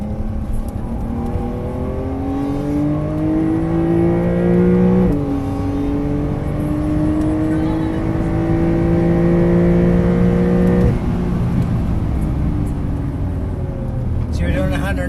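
A Porsche 992.1 Carrera S on a track at APEX Motor Club accelerates hard from inside the cabin, engine note climbing through gears with clear shift breaks, loud and continuous.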